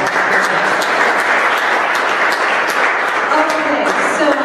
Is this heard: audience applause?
yes